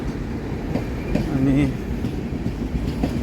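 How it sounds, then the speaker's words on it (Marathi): The 20932 Kochuveli SF Express rolls along, heard from inside a general coach as a steady low rumble with faint rhythmic clatter, while a person talks over it. "तुम्ही बघू शकता ट्रेन सुटली आहे"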